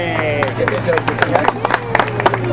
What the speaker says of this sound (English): I like the way they clap